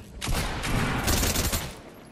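Gunfire in the video game Fortnite: a dense, sustained burst of rapid shots fills the whole stretch, loud and close, without talk.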